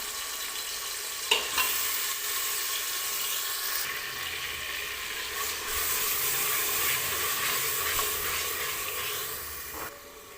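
Pounded garlic, onion, ginger and green chili masala frying in a pan, a steady, close hiss and sizzle with faint stirring scrapes, continuing without a break.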